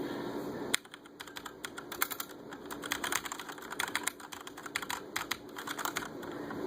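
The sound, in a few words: mechanical computer keyboard typing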